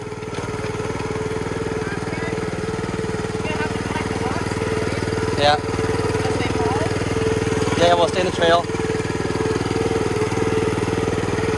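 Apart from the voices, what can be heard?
gas-powered wheelbarrow engine running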